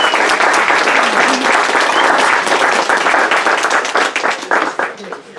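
Audience applause welcoming a speaker at a talk on the history of American music, a loud sustained burst of many hands clapping that thins out toward the end.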